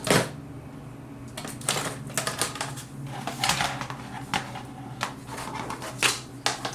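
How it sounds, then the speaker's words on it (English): A screwdriver works loose the four bottom screws of a Sega Dreamcast console, giving sharp, irregular clicks and scraping ticks close by, in short bursts with brief pauses and no talking. "the first thing I'm gonna go ahead and do is take out the 4 screws in the"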